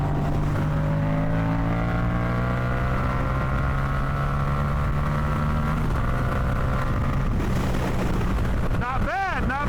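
Yamaha FZ-07 motorcycle ridden at easy pace, engine hum rising in pitch as it accelerates, steady heavy wind roar buffeting the microphone throughout, with a brief gear-change dip partway.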